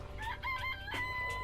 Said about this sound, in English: Maybe it's a cock. You know, a rooster.